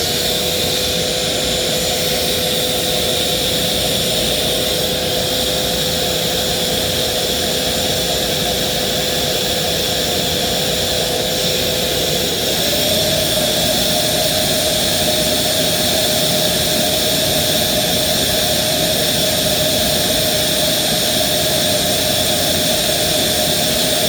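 Euro Pro EP601 two-speed vacuum cleaner running on its low setting, a steady close whirring drone with airy hiss that holds constant throughout, its pitch stepping up slightly partway through.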